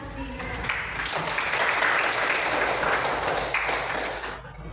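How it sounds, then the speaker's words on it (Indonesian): In a classroom, children clap for themselves after a lesson activity, a sustained scattered patter of many small hands, with a murmur of voices beneath. "Tepuk tangan untuk diri."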